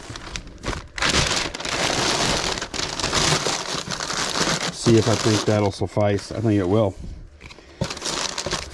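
Packing paper is crumpled and stuffed into a shipping box of books, giving loud, close crinkling and rustling in bursts while a person talks over part of it.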